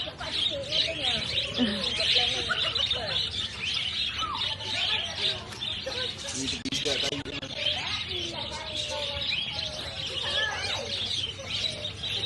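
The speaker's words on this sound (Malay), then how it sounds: "Sekarang diorang tengah nak bagi burung-burung makan." Many birds at feeding time in a petting zoo in Terengganu, Malaysia, chirp and coo in a busy, overlapping chorus, with people talking faintly in the background.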